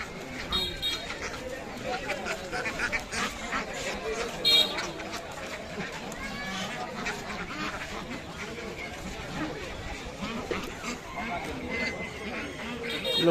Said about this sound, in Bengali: দেশি পেটি হাঁস